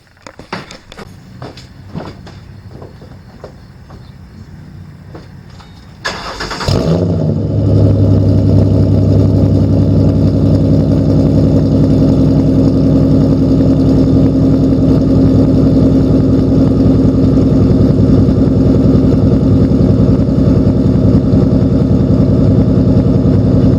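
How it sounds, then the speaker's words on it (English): Ford Mustang with the 4.0 engine firing up after a few faint clicks and knocks, then settling into a loud, steady exhaust rumble at idle, close and continuous with no talking. "I think the exhaust sounds pretty good on this little beast here"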